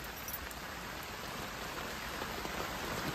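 Steady rain falls in a dense, even hiss, soft and continuous with no voices.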